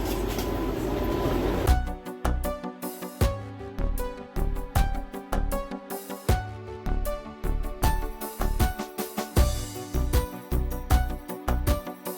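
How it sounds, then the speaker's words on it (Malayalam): Steady rumble inside a moving Vande Bharat passenger train with rhythmic clacks and rattles, a continuous low hum running beneath the whole stretch. "അപ്പം നമ്മൾ വന്ദേ ഭാരത് ട്രെയിനിൻ്റെ ഉള്ളിട്ട് കയറിയിട്ടാണ്"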